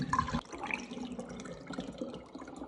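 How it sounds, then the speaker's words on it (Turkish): Strawberry lemonade with fruit pieces being strained into a carafe, a soft steady pouring and trickling of liquid, close and fairly quiet, with a brief louder splash at the start. "çilekli limonata yapmıştım. Ee, onu da şöyle karafın içerisine süzüyorum"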